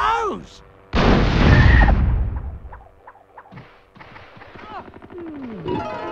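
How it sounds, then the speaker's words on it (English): A bazooka round fires and slams into a tent in the Hogs of War video game, bursting into a loud, close explosion that rumbles for about a second, followed by scattered smaller pops and game sounds. "direct shot with bazooka. The bazooka. At that tent and that bombardier, which should do some good damage because the tent exploding will do extra"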